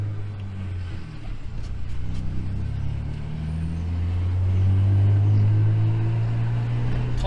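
Opel Vectra OPC estate with a stage 3 engine tune of over 400 horsepower, driving with a deep, resonant droning engine note that swells as it pulls, heard from inside the car.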